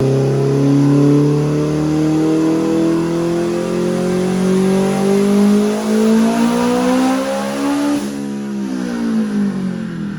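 A big-power Nissan Juke on a dyno screams through a long, loud full-throttle pull, its engine pitch climbing steadily for about eight seconds before it lets off and the revs fall away, heard alone with no talk.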